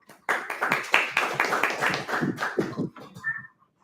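A small audience at a Toastmasters club meeting claps for the Toastmaster, a steady burst of hand claps lasting about three seconds before trailing off.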